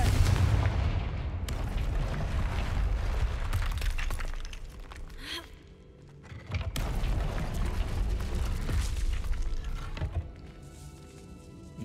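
A Confringo fire spell in Hogwarts Legacy blasts off in heavy booming bursts, with cracking, shattering impacts and rumbling tails that briefly die away before another loud run of blasts.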